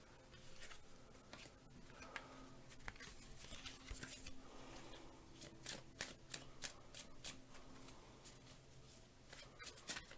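Tarot cards shuffled steadily by hand, a dense crisp riffling and flicking patter with sharp card snaps, close and continuous, with faint background hum and no talk.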